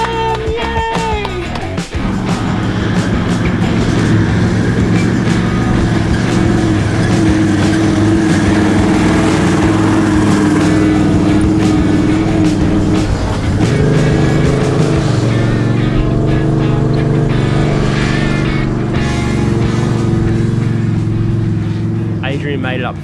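A 4x4 vehicle's engine drones steadily and loudly as it labors up a sandy climb in the Simpson Desert, with people talking over the constant rumble.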